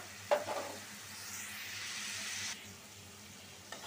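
Masala with salt sautéing in a pan gives a soft, fairly faint sizzle, with a sharp clatter near the start and a brief stirring scrape near the end, the frying hiss fading after a couple of seconds.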